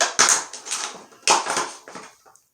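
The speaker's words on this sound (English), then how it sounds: "I'll cut around this plastic packaging here" Plastic packaging around a toilet flapper valve is cut open, giving crunchy crackling snips in about three bursts over a couple of seconds, close and fairly loud, with no talk.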